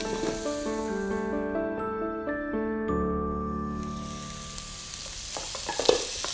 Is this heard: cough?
no